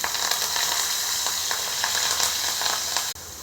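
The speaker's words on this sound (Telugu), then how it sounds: "ఆనియన్, టమాటా, పచ్చిమిర్చి అన్నీ ఫ్రై చేసుకోవాలి." Sliced onion frying in an oil-filled pan for an egg and dried fish curry, a continuous close hiss and crackle with scattered pops, steady throughout with a brief dip near the end.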